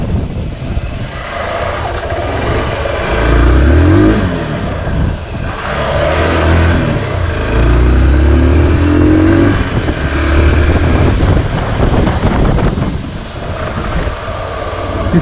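A Hero Xpulse 200 BS6 motorcycle engine rumbles steadily throughout, its revs rising and falling as the bike rides along through the city, with road and wind noise mixed in.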